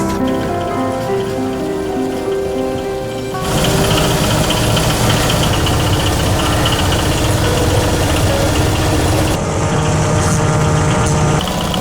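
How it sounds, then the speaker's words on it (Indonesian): A decorticator machine strips fiber from pineapple leaves, a loud steady mechanical clatter and rumble that grows denser and harsher partway through, continuing without speech. "Proses pengambilan serat daun nanas dilakukan dengan menggunakan mesin dekortikator."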